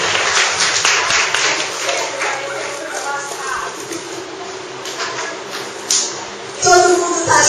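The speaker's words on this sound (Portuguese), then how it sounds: "Vamos aplaudir?" A live audience at a community presentation event claps, broadband patter sustained for several seconds at moderate loudness, with a brief louder burst near the end.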